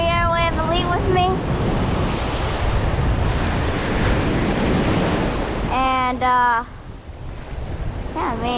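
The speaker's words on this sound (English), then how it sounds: "it's a bit windy" Strong coastal wind blows into the face while tautog fishing in spring, buffeting the microphone with a loud continuous roar mixed with surf, with someone speaking briefly in bursts over it.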